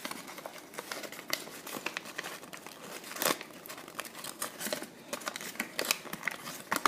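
Origami paper being folded into a box cube, with soft crinkling and crisp rustles spread across the clip, close and fairly quiet, with a few sharper creases standing out and no talking.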